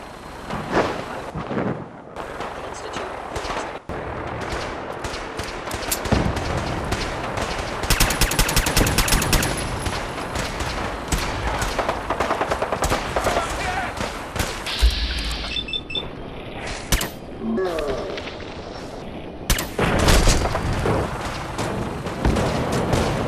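Gunfire from the video game Fallout 4 during a mission: loud, dense bursts of rapid shots and blasts run almost continuously, layered with other game effects.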